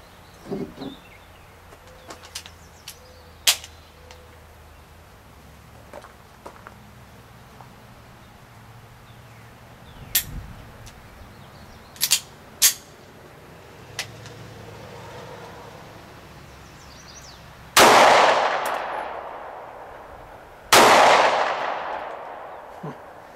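Beretta Nano pistol firing two sharp, loud gunshots late in the sequence, each with a decaying echo, preceded by quieter clicks and handling noises spread across an outdoor range.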